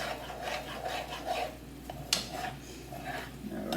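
Ramen sauce with soy sauce stirred and rubbed in a bowl, a steady scraping, rasping swirl with small clinks of the utensil against the dish, close and moderately loud, no voices.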